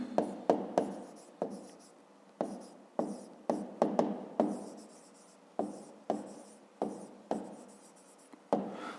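Pen or chalk strokes on a writing surface during a fifth-grade maths lesson, a series of short scratching strokes with brief pauses, close and fairly quiet, with no talking.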